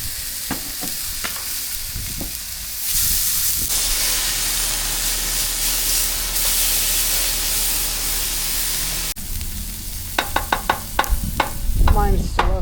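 Onions cooking on a Blackstone griddle: a loud, steady hiss and sizzle that swells after a few seconds, with spatula scrapes and clicks at the start and end.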